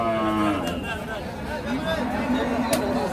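Sahiwal cattle at a busy livestock market, a loud, close, drawn-out moo followed by further lowing, with indistinct crowd chatter behind.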